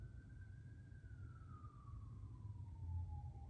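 A distant emergency siren from fire, ambulance or police vehicles wails with a slowly falling pitch, faint behind a steady low rumble of traffic or wind.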